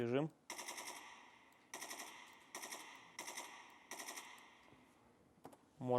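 In Escape from Tarkov, a rifle fires on full auto in five sharp, rapid bursts separated by short pauses, loud and close, with a voice speaking briefly at the start and end.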